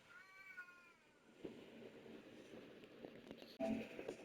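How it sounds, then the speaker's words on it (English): A cat meows several times, faint and somewhat distant, its wavering cries carried over low background noise and game sounds. "sorry about the cat"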